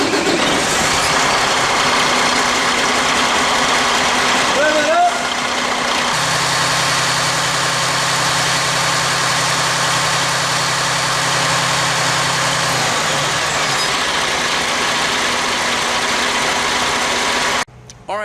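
A truck engine is started during a jump-start and alternator test, cranking and catching into a steady low idle that carries on for several seconds before cutting off near the end.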